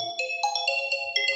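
A ringtone plays on a Vivo Y21 phone: a bright electronic melody of quick, clean notes that repeats clearly on its own, with no voices over it.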